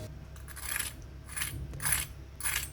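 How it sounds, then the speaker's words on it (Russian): Crisp crunching bites into fried zucchini rolls come in four separate bursts, close and fairly quiet, with short pauses between them. "Вы только послушайте этот хруст."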